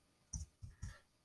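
Three quick, quiet keyboard clicks, unevenly spaced, come from keys pressed while typing a web address.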